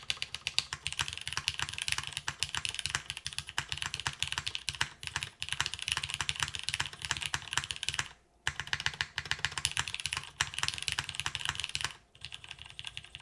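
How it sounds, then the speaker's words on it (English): Rapid, continuous typing on a Spyder TKL mechanical keyboard, dense clacking keystrokes close up with two brief pauses, no voices over it. "I'm like typing random things right now."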